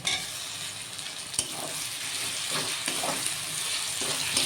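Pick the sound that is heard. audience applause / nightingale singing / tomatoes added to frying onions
tomatoes added to frying onions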